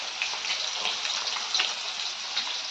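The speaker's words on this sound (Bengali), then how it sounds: "এদিকে আমি চালটা ধুয়ে নিচ্ছি" Rice is washed with water, a steady close hiss of running, splashing water with small uneven splashes throughout and no voices.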